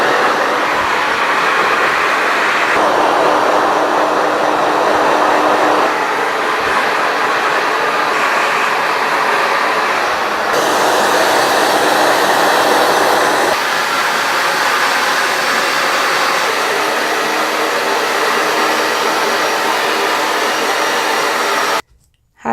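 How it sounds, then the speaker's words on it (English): A hair dryer fitted with a diffuser blows loudly and continuously while drying curly natural hair, a steady airy roar whose pitch shifts slightly as the setting changes, cutting off abruptly at the end. "So now let's go and diffuse."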